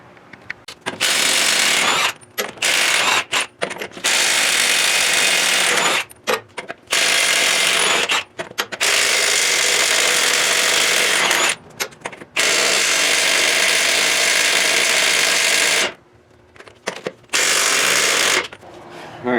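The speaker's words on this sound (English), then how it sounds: "you saw the 1/2 inch Milwaukee was struggling" Milwaukee half-inch cordless impact wrench struggling to remove lug nuts on a 2009 F750 truck, loud close bursts of rapid hammering separated by short pauses, with several stops and restarts.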